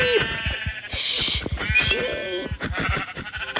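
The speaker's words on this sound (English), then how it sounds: "Oh my days, I found another sheep." Several sheep bleat in a video game, a run of loud, close calls repeating over a few seconds with busy game sounds around them.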